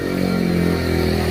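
A motorcycle engine rumbles close by on a mountain road, a steady loud drone with a slight rise in revs across the short moment, no voices over it.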